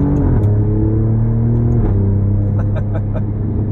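A 2018 Alfa Romeo Giulia Quadrifoglio accelerating hard, its loud engine note climbing then dropping sharply at a quick upshift and climbing again, heard close from inside the cabin.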